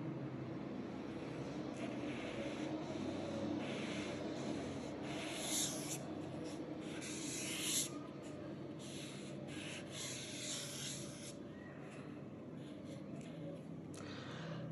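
Pen nib with three tips, the broad one in use, scratching and rubbing steadily across paper at close range, a soft continuous friction over a low background hum.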